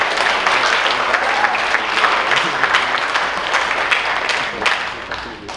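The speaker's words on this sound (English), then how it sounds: "Let's give him another round of applause." Audience at a high school athletic awards night giving a round of applause, dense clapping close and loud that thins slightly toward the end.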